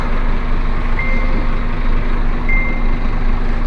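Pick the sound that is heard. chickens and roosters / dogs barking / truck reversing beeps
truck reversing beeps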